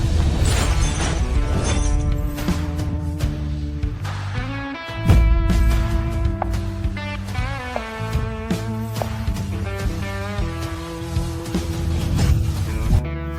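Glass shatters loudly in a dramatic scene, with a sharp crash and scattering shards mixed under a swelling orchestral music score that continues throughout.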